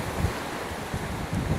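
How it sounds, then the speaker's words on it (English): Strong wind from Hurricane Milton roaring steadily at landfall on the Florida coast, a dense, continuous rush with brief gusting swells, loud and close with no voices. "the howling of the wind has been pretty consistent here throughout the night"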